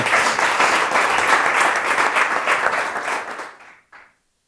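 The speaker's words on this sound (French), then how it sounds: "Donc on peut encore une fois les applaudir" An audience at a coding bootcamp demo day applauds warmly for several seconds, the clapping then fading quickly to silence, followed by one last brief clap.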